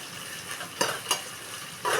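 Ingredients for chicken biryani frying in a pan until browned, a soft continuous sizzle broken by a few stirring scrapes, quiet and with no voices.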